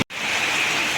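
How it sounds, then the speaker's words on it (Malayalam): Heavy rain pours down as a dense, steady hiss, close and continuous after a brief instant of silence at the start, with no voices over it. "ഇവിടെ ഇപ്പോൾ നല്ല മഴയാണ്."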